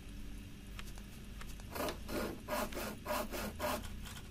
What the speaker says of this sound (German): Ja gut, dann säge den da hinten ab